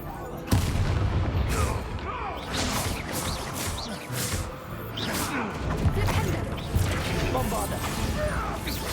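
Heavy blasting impacts from the Bombarda spell in a Harry Potter video game, a dense barrage of booms and crashes over about nine seconds, loud and continuous with scattered sharp hits.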